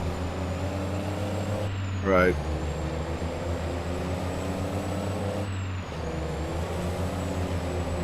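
A loud grain truck's engine drones steadily at close range through a corn harvest, with two brief hissing bursts resembling air brakes, and one short spoken word cuts in partway.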